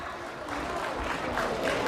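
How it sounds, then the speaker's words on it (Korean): A school audience during a special lecture bursts into brief applause, a dense crowd clapping that swells over two seconds. "박수 주세요"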